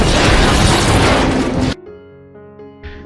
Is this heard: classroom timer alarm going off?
no